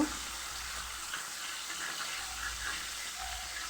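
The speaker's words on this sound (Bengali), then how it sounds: "এখন একটু ভাজা ভাজা করে নিব আর এখানে আমি একটু সয়া সস আর লবণ দিয়ে দিব" Chicken breast pieces frying with soy sauce and salt in a pan, a steady close hiss of sizzling with faint low background hum and no speech.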